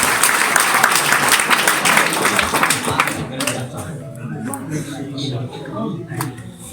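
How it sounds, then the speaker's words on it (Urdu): Loud, dense audience applause for the chief guest at a school student prize-giving ceremony, sustained for about three seconds, then fading into scattered claps and murmuring crowd noise. "زوردار تالیاں ایک بار مفتی صاحب کے لیے"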